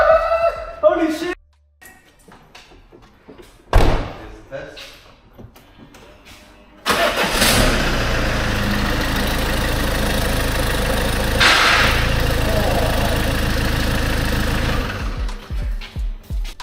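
The engine of a broken van, with a failing slave cylinder, starts after a few quiet seconds of rattling, then runs at a loud, steady rough idle for about eight seconds before cutting off.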